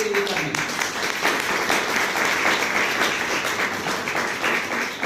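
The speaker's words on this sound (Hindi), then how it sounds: "एक बार ताली बजाइए" Audience clapping in a seated hall during a talk, a steady moderate wash of many hands that continues evenly for several seconds.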